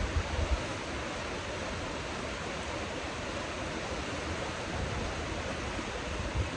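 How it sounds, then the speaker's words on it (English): Steady broadband rush of water running off a highway drainage outlet toward a calm river, constant and unbroken, with no voices. "Still got a little water running down from the highway over there from the drainage."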